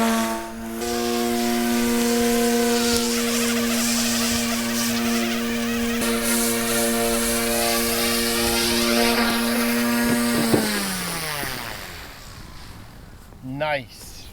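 An Eachine E150 RC helicopter hovers nearby with a steady, loud high-pitched rotor whine that holds for about ten seconds, then spools down and fades, ending with a few handling clatters.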